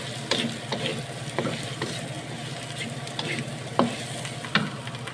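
Tempeh stir-fried with garlic in a pan, a steady sizzle with repeated scraping and clacking strokes of a spatula stirring it.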